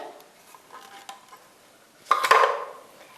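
Chopped nuts dropped into a caramel egg mixture for a Christmas nutty pie, then stirred with a utensil against the bowl. Soft scattered clinks come first, followed by a louder, brief scraping clatter near the end.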